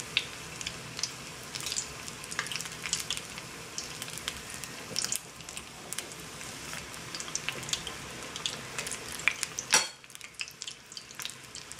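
Hush puppies sizzle and crackle in hot oil in a small pot, a steady close frying hiss with scattered pops, cut off by a sharp knock near the end that leaves a quieter hiss.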